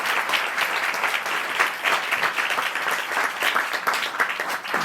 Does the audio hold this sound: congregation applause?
yes